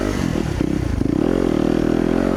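A 2019 Honda CRF250RX or Yamaha YZ250FX dirt bike engine revs hard while climbing a hill, giving a loud, steady, buzzing four-stroke roar that holds throughout.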